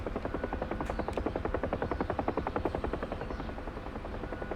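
Rapid, even whop of a Huey helicopter's rotor in the DCS flight simulator, a loud continuous chopping pulse with steady rhythm and a buzzing engine drone underneath.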